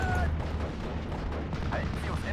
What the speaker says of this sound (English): What's hitting us from the centre? I think it's some howitzers.